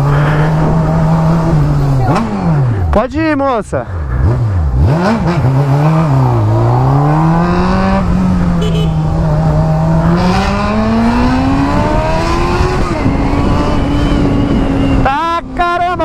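A Honda Hornet motorcycle is ridden through a neighbourhood, its engine loud and close, revving up and down through the gears with sharp throttle blips, while someone speaks briefly over it.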